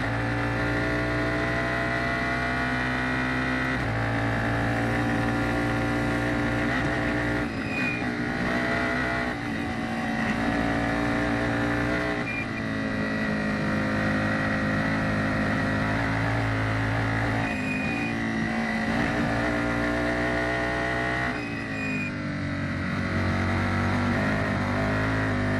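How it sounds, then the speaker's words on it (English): F4 race car at Circuit of the Americas, the engine rising and dipping as throttle is modulated through a sequence of esses, sustained and fairly loud for the whole run with no talk. "Great to hear how the drivers have to modulate the throttle on their way through the S's"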